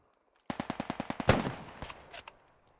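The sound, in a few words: gunfire in a WWII Market Garden video game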